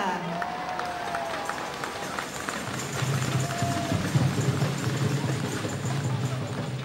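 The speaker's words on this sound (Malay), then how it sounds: "Kita berikan tepukan gemuruh sekali lagi untuk mereka" A large crowd at a university sports-festival opening ceremony applauds steadily for several seconds, the clapping swelling slightly louder midway, with a faint voice or tone drifting above it.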